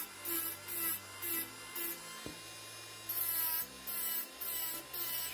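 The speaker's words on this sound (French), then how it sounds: "Je préfère vraiment limer à la lime quand il s'agit de la forme." A nail file rasps back and forth over fingernails during a quick Babyboomer nail set, coming in close, regular bursts of scratchy friction with short pauses between strokes and no talking.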